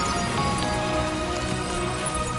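Rain in the video game Death Stranding 2 falls in a dense, steady patter on surfaces, a close and continuous wash of drops with no voices.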